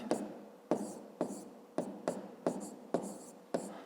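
A pen scratches out a math solution by hand on paper, making about eight crisp, evenly spaced strokes at close range, each a short scratchy swipe fading quickly, with no talking.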